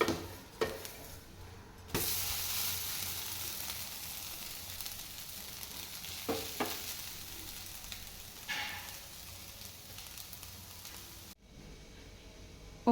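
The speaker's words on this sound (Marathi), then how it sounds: "बारीक पाऊस येतोय" Light rain patters in a constant, even hiss for several seconds, a fine crackling texture with occasional louder taps.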